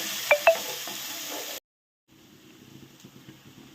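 A cup of onions is stirred in hot oil in a pan, with mustard seeds, cumin and dals, for maize upma. A close sizzle with two sharp clinks stops abruptly, then a fainter frying hiss returns.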